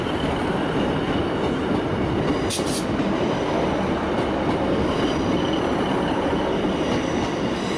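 A Class 156 diesel multiple unit at Manchester Piccadilly station gives a steady, loud rumble throughout, with a brief high squeal of wheels partway through.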